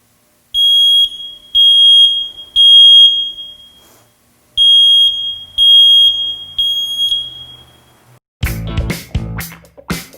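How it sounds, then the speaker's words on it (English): A smoke detector shrieks in a pattern of three loud, piercing high beeps, a pause, and three more, then a voice starts singing along with music at the end. "we want to just demonstrate for you what the smoke detector sounds like"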